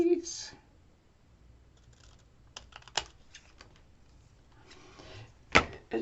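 Paper for a flip card album is cut with scissors in a few sharp, separate snips spread across a quiet room, with a louder clip near the end.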